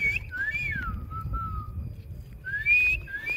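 Clear, loud whistling at a wild hyena feeding spot in Africa in the evening: a rising and falling whistled call in two bursts with a gap between, over low rumbling background noise.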